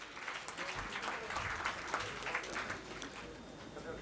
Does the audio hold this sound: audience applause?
yes